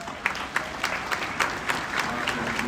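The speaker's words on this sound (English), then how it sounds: "Clap that up," A crowd at a live business event at Madison Square Garden claps steadily for a few seconds, a dense wash of hands with a few sharper individual claps standing out.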